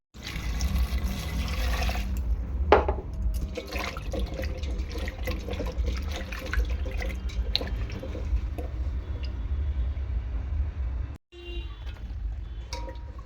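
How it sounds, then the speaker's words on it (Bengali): Sweet potatoes and ordinary potatoes washed by hand in water in a bowl, a continuous near splashing and sloshing with squishy rubbing and dripping, briefly cut off near the end before resuming. "আলুগুলো ভালো করে পরিষ্কার করে ধুয়ে নিচ্ছি।"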